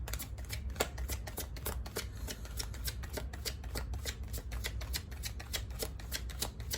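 Tarot cards being shuffled by hand, a fast run of soft riffling flicks in a steady rhythm, close and fairly quiet with no talk.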